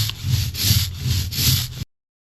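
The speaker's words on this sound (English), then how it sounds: "You'll know the ink is the right consistency when you hear a sort of like sizzly, like tacky sizzly sound." An ink roller rolls back and forth through tacky lino printing ink, producing a rhythmic, sizzly, crackling rub in about four strokes, close and steady before stopping suddenly.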